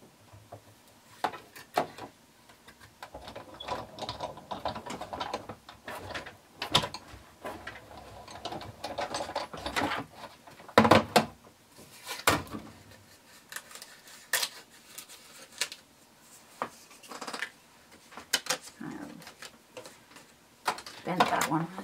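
Die-cutting machine cutting a stitched rectangle from cardstock, with a steady grinding, clicking crank rhythm and irregular handling clatter while a person talks over it.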